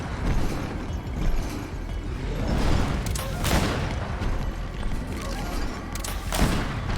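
Gunfire and booming blasts sound during combat in the game Greedfall, forming a dense, loud, continuous clatter with sharp bursts recurring throughout.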